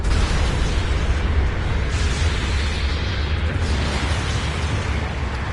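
Airstrike explosions in the video game Gundam Battle Operation 2 make a loud, continuous rumbling roar of overlapping blasts with heavy low-end boom and no break.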